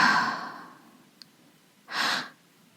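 Breathwork pattern of breaths through the mouth: a long soft breath fading out, a short pause, then one brief airy breath, close and quiet with no talk.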